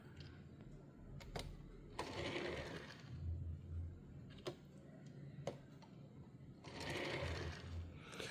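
A Hot Wheels Ford GT die-cast toy car rolls across a surface in a couple of short bursts of light, close rattling wheel noise, with quiet pauses and small clicks between runs.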